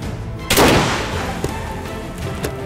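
A single loud 14.5 x 114 mm anti-tank rifle shot fired at a pane of bulletproof glass, a sharp close blast followed by a long ringing decay with smaller thumps trailing afterward.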